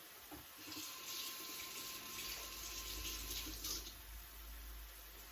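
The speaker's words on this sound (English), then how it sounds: "we're going to rinse that spoon." Tap water runs steadily over a spoon at a kitchen sink, making a faint, continuous splashing hiss that carries on without a break.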